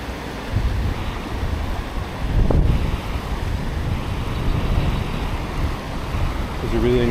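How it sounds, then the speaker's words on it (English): Churning white water of the Fox River rushing against rocks along the bank, a continuous roar heavily buffeted by wind on the microphone, with a short burst of louder splashing midway. "the water's really churning"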